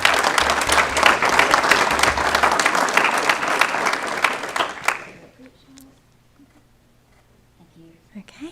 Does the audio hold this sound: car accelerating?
no